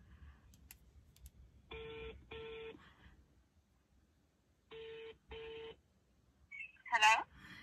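A phone call to a friend produces two pairs of electronic double tones a few seconds apart, quiet against a hushed room, followed by a short burst of voice at the end.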